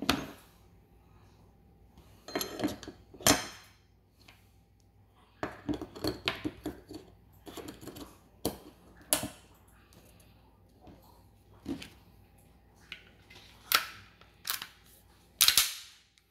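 A Taurus G3 pistol being reassembled by hand, with a series of sharp metallic clicks and snaps spaced irregularly over a quiet background, some louder slide and part impacts near the end.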